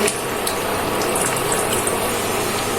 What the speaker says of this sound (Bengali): এখন ভিনেগার অ্যাড করব